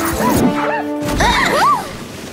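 Cartoon dogs in an Arctic setting yelp and bark in a few quick, loud, high-pitched calls close by, some sliding up and down like whimpers, after a storm.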